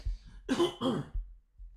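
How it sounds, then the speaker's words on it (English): Two short, rough coughs close to the mic, each a throaty burst, followed by a brief pause. "Apologies for the occasional, coughing interruption."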